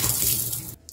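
Water gushes loudly from a pipe whose valve is being replaced, a steady hissing rush that cuts off abruptly near the end.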